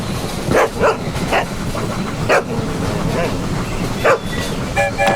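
A dog barks in several short, spaced yips over light background music and a rolling train-like rumble, in a cartoon animal sequence.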